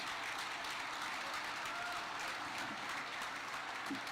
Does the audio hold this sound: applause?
yes